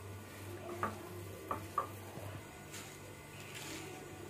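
Spices being stirred into a potato filling for paneer potato bread rolls, with a few sharp spoon clinks against the bowl and soft scraping, close and quiet.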